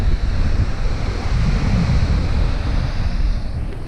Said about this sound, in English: one side of the dam offering a serene water mirror, and the other side a roaring waterfall